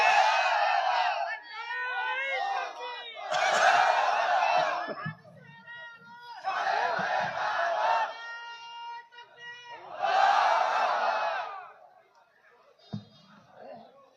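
A crowd at a Bengali Islamic waz sermon roars a takbir response in unison four times, each loud collective shout alternating with the preacher's amplified voice.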